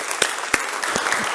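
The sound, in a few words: audience applause welcoming speaker Kim Stone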